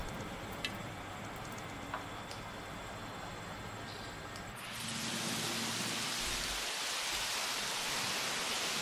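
Rain falls in Jurassic World Evolution, a soft steady patter with faint ticks at first, then swelling midway into a much louder, dense hiss of heavy rainfall that keeps going to the end.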